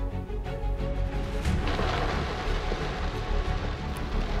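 Heavy monsoon rain during a drive through the Ambenali ghat between Poladpur and Mahabaleshwar, a loud continuous roar of rain with low rumbling from the moving vehicle, steady throughout with occasional heavier thuds.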